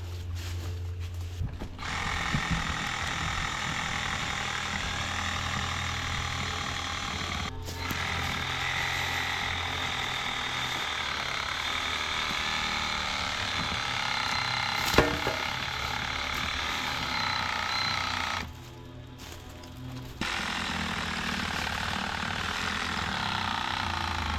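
A $30 Sawzall reciprocating saw cuts through a birch tree, a steady loud buzzing rasp running almost continuously, with a couple of brief pauses where the blade stops before starting again.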